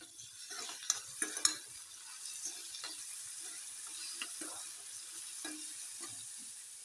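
Tomatoes drop into a hot frying pan with chillies and sizzle faintly, with a few sharp clinks and soft stirring scrapes near the start, then a quiet, steady fry.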